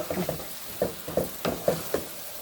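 Potatoes sautéing with spices in a pan, with a soft sizzle under a series of regular scraping stirs, about six distinct strokes close by and moderately quiet, no voices.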